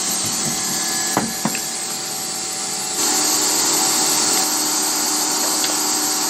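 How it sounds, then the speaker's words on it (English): A Hoover vacuum cleaner running steadily in a workshop, clearing up swarf after machining an engine connecting rod, with a couple of sharp knocks early on and the suction growing louder and fuller partway through. "Do a bit of housekeeping with the Hoover"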